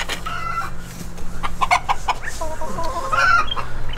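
Chickens in a breeding flock cluck and chatter in short, repeated bursts close by, with a faint crow mixed in over a low background hum.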